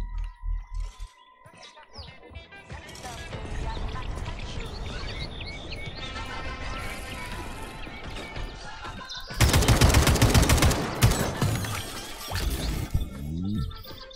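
Rapid gunfire from the video game Atomic Heart crackles in dense bursts, swelling into a loud, chaotic barrage near the end, with occasional electronic chirps.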